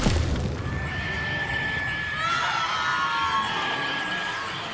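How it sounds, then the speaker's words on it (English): Shrill screaming from uprooted mandrakes in a herbology class in the video game Hogwarts Legacy, a piercing wailing cry over a noisy background, rising and sweeping in pitch partway through and staying loud to the end. "Why are the students screaming?"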